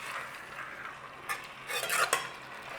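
Vindaloo cooking with wine and garlic is stirred in a pot, a soft, close scraping and gentle sizzle that swells into a few brief louder stirring strokes near the end.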